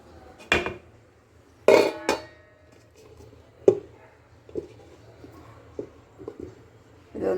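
A lid set over a pot of methi thepla dough mixed with oil, resting in a home kitchen, giving a few sharp, close clinks and knocks spaced over several seconds, with no talking.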